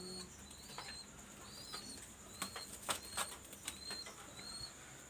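Pigeons in a loft, including a teddy breed pair, with soft wing flutters and brief scuffling bursts, several sharp flaps clustered near the middle over a quiet hiss and faint chirps.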